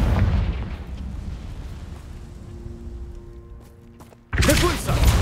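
Confringo fire spell exploding in the Hogwarts Legacy video game: a broad roaring blast rumbles and fades over several seconds, then a second loud burst erupts near the end, with no talk.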